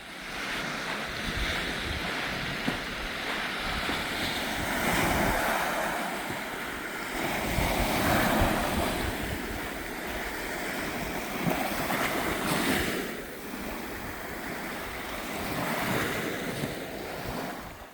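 Waves from the sea roll onto a wide sandy beach on an island in Korea's West Sea, a steady, loud wash of surf mixed with gusting wind buffeting the microphone.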